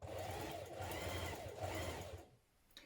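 A sewing machine stitches a backpack seam along a straight edge with a steady, fast mechanical whir that runs continuously, then stops abruptly near the end.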